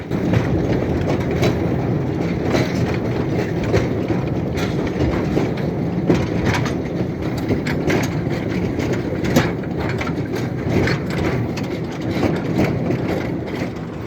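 A diesel locomotive pulls a passenger train with bench seats, rolling steadily with a continuous engine rumble and rhythmic clickety-clack of wheels on rail joints, heard from on board throughout.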